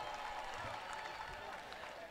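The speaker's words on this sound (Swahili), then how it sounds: "Tupigie tena makofi ya kutosha." Audience applause at a university graduation ceremony in Tanzania, a continuous crowd clapping at moderate distance, fairly soft and even, with a faint murmur of the crowd beneath.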